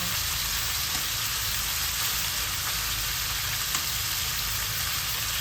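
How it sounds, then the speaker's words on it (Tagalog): Pork pieces sizzle steadily in a frying pan while being browned for adobo, a dense continuous crackle with no talking. "So yan guys, tama na yung pagkakaprito na ganyan."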